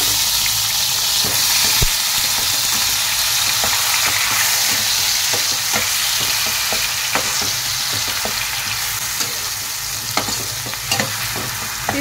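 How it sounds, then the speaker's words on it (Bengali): Onion, ginger and garlic paste frying in hot oil with cumin seeds and a bay leaf, a dense, continuous close sizzle with scattered sharp crackles and spoon clicks across the whole stretch. "এবার আমি এর মধ্যে দিয়ে দেব পেঁয়াজ আদা রসুন পেস্ট।"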